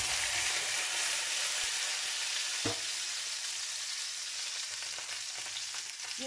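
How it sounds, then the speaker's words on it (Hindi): Steady sizzling of boiled potatoes frying in hot oil, a continuous crackling hiss with a brief clatter near the middle. "ऑयल हमारा गर्म हो चुका है, अभी मैं इसमें आलू हमारे जो उबले हुए वो ऐड कर दूंगी"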